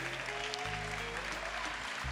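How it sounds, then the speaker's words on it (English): Audience applause at a Saturday morning forum, a faint, distant patter of clapping over a low hum, brief and steady. "Give him a round of applause for that."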